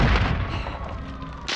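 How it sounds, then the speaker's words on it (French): A grenade blast in Call of Duty Warzone: a heavy, close boom at the start with a low rumbling tail that holds over ongoing battle noise, then a sharp new burst near the end. "Je lance une grenade."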